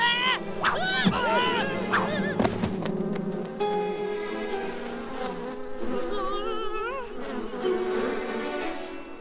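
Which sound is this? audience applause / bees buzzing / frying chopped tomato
bees buzzing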